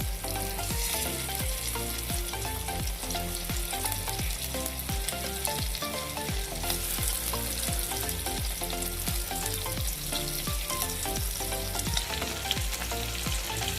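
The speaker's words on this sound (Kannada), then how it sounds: "ಮೀಡಿಯಮ್ ಫ್ಲೇಮಲ್ಲಿ ಒಂದೊಂದೇ ಮಶ್ರೂಮ್ ಇಟ್ಬಿಟ್ಟು 4 to 5 ಮಿನಿಟ್ಸ್ ಬಾಯ್ಲ್ ಮಾಡೋಣ." Stuffed mushrooms fry in a pan over a medium flame, giving a loud, steady sizzle and crackle that runs unbroken throughout, with no voices.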